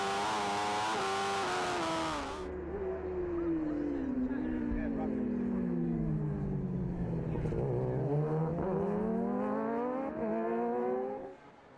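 A road racing motorcycle at Oliver's Mount roars close by, its engine dipping into a corner then rising again as the rider gets back on the power, a loud continuous climbing whine that fades at the end.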